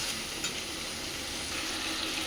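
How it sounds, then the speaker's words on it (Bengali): Cubed onions and capsicum sauté with spices in a pan, giving a continuous close hiss and crackle with faint stirring underneath. "এবার এর সাথে এগুলো খুব ভালোভাবে আমি কষিয়ে নেব মশলার সাথে।"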